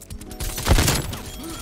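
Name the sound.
AK-74U SMG gunfire, from video game Call of Duty Cold War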